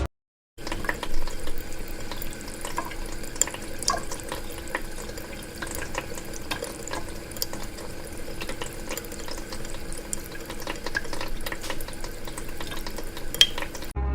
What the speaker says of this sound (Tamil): அப்போது யாரோ தண்ணி திருப்பி விடுற சத்தம் கேட்குது.